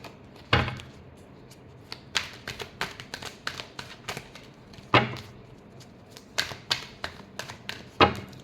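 Tarot cards shuffled during a Taurus reading, a loose run of crisp slaps and riffling taps with a few sharper bursts, close and fairly quiet, no voices.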